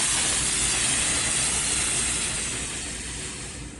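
A Bissell PowerFresh steam mop hisses steam in a steady, bright, continuous rush that stays close and loud, then gradually eases off toward the end.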